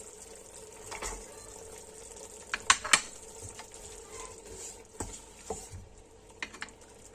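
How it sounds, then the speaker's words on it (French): Chopped onion softening in a pan with a soft ongoing sizzle, broken by several spoon scrapes and clinks of pot and utensil as carrots go in; no one speaks. "on laisse à fondre l'oignon, comme vous voyez. Ensuite, on rajoute des carottes"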